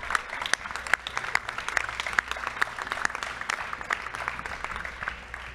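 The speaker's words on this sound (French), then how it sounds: "On peut l'applaudir très fort" An audience at the 2022 national final of a French burger-making competition applauds a contestant, a dense crowd of clapping with a few sharper individual claps standing out, sustained throughout.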